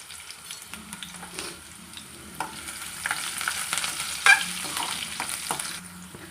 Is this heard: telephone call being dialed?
no